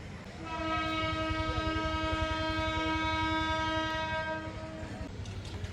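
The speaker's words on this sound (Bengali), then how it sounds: "ট্রেন বেশ লেট একটার আগে আসার কথা থাকলেও দুইটার আগে আসছে" A passenger train running late pulls in, its horn blowing a long, loud, steady chord over the heavy rumble and clatter of wheels and cars for nearly the whole stretch.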